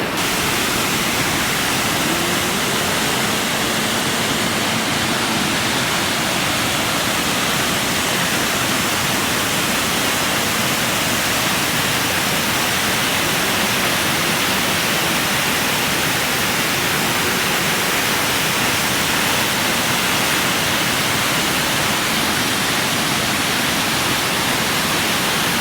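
Floodwater from the overflowing Unnichai tank in Batticaloa rushes toward the forest in a loud, unbroken roar that stays steady and close throughout, with no voices.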